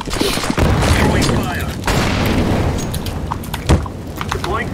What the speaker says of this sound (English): Flashbang. Fire in the hole.